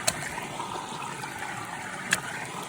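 Creek water runs through a hiking water filter beside a stream on the Appalachian Approach Trail, a steady soft trickle and rushing wash with a couple of brief clicks.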